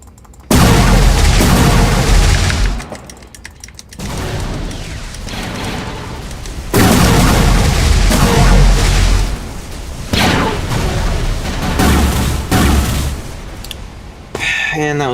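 Heavy, booming blasts from a MAC cannon on a UNSC ship in Halo strike a player in a large-map match, several loud explosive impacts separated by brief lulls, with dense battle noise throughout.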